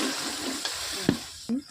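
Water poured into a pan of frying ground chili, cumin and coriander while cooking duck curry, giving a steady sizzle with a few sharp hissing bursts.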